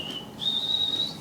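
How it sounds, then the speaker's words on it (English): A person whistles a single short, clear note that steps up in pitch partway through, close and alone. "And he's whistling to boot?"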